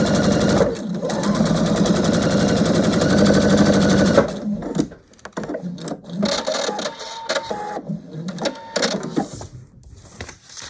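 Sewing machine stitching fabric for a quilt block with a short stitch length: a fast, even mechanical whir of needle strokes for about four seconds, then stops, followed by quieter rustling and handling of fabric.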